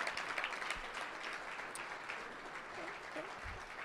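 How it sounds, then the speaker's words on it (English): An audience at a startup demo day pitch event breaks into sustained applause, a dense, even roar of clapping heard from within the room with a few faint voices mixed in. "why don't we give one more big round of applause for these guys"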